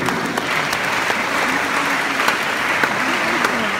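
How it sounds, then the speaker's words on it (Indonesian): Audience applauding at the inauguration of a junior high school, a steady wash of clapping that carries on for the whole stretch with no break. "Kita berikan aplaus buat SMP ini."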